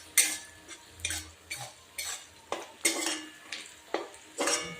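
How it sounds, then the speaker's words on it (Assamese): Onions being stirred in hot oil with turmeric, a spoon scraping and knocking against the pot in a steady rhythm of about ten strokes, close and fairly loud, with a faint sizzle underneath and no talking. "হালধি দি তেলত পিঁয়াজখিনি লৰাই দিওঁ।"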